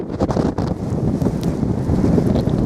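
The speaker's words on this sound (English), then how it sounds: "it's so windy you can't breathe" Strong wind gusting across a mountain top with rain approaching, loud continuous roaring buffeting against the microphone, no voices.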